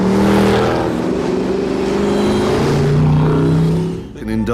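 A Mercedes CLK63 AMG Black Series engine roars loudly and steadily, its deep harmonic drone rising and falling through the revs for several seconds before cutting off abruptly near the end.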